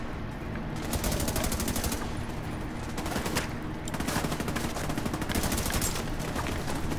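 Sustained automatic gunfire in The Division 2, with dense bursts rattling almost continuously across the whole stretch, loud and close, swelling in several waves with only brief thinner gaps between volleys.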